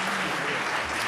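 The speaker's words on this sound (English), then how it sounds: "And another round of applause for Mrs." A school concert audience claps for a retiring teacher. The brief stretch of dense, steady applause sits somewhat distant in a large room.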